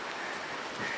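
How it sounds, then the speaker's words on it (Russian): Strong wind blowing along the Baltic Sea coast at Svetlogorsk among swaying trees, a steady, loud broadband rush lasting about a second with no voices. "Ох, какой ветер."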